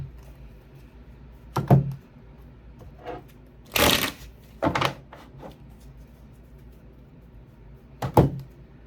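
Tarot cards are shuffled in several short, crisp riffling bursts, close and distinct, separated by quiet gaps with soft handling noises.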